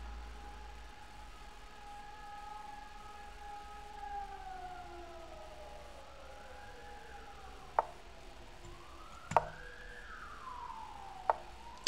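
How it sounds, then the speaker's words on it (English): Ambulance siren outside, heard faintly in the distance as it passes, with a long wailing tone that rises and falls over several cycles, joined by a few sharp clicks close by and no talking. "There is an ambulance going."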